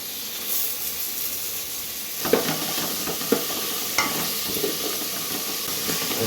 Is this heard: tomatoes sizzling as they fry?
yes